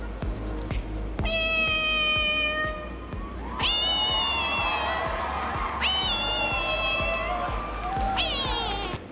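A woman imitates a cat, giving several long, drawn-out meows and yowls, one after another in a loud, close sequence, while crowd noise runs steadily underneath.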